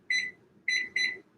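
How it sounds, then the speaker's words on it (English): A kitchen timer beeps three times when it is set: two evenly spaced bright electronic chirps, then a third quickly after the second, close and clear, with no voice. "And I'm doing my kitchen timer"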